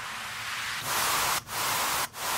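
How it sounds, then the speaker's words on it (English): Broadband white noise hiss used as a generic music-production sound effect, steady and fairly quiet at first, then swelling louder with two brief dips near the end, heard alone with no voices. "you know, white noise."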